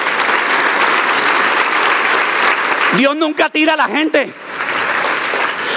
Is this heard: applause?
yes